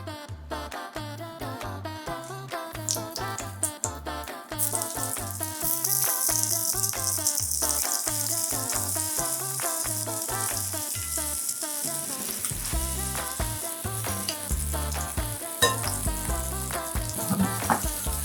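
Potatoes fry flat side down in shimmering hot beef tallow, giving a steady, dense sizzle that swells and holds loud throughout, with occasional clatter as pieces go into the pan.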